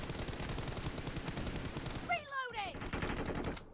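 MG3 machine gun fire in an online shooter game rattles continuously as dense, fast repeated shots, broken by a brief whooshing sweep before the steady automatic fire resumes, all fairly quiet.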